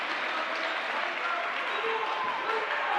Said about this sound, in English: this crowd is loud here tonight